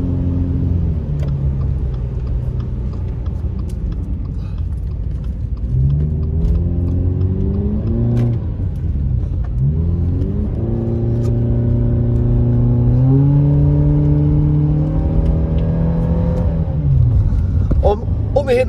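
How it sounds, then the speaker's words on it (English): Car engine being revved repeatedly to warm up during heavy snowfall in Big Bear, rising and falling in rumbling, climbing pitches close by, with someone talking over it. "The gas a bunch right now just to try to warm up the engine"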